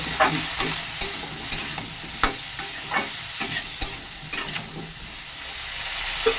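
A spoon scrapes and tosses fenugreek leaves and winter vegetables with salt and turmeric in a sizzling pan, making a run of distinct, rhythmic stirring strokes up close over a steady fry, with no talking.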